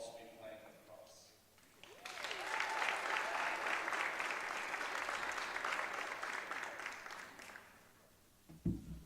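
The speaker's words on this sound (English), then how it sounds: "one more big round of applause for Leah and Sophia" An audience at a girls' basketball senior night, Grafton against Westborough, breaks into loud, sustained applause for about six seconds after a quieter start, then fades out near the end.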